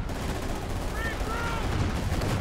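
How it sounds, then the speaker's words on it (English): Assault artillery barrage in the World War II strategy game Company of Heroes, on Hill 400 in a 4v4 match: a dense, steady rumble of explosions and gunfire with rapid crackling impacts and whistling shells, continuous and loud throughout. "I called in sector assault or assault artillery right here, and it's basically blowing up everything that they have"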